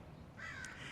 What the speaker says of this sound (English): you hear the crow call